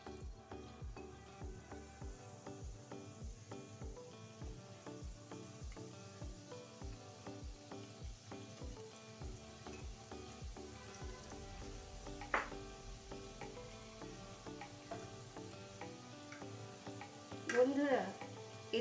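Peanut pakoras (badam pakora) frying over low heat in a wok, a steady oily sizzle with a regular rhythmic scraping or stirring pattern early on and a few brief clinks later.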